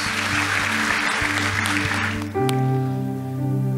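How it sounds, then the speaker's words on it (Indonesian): A congregation at an evening youth revival service in church applauds vigorously over sustained keyboard and band chords. The clapping cuts off abruptly midway, leaving the music ringing alone. "Kita berikan tepuk tangan sama-sama yang dahsyat buat Tuhan Yesus."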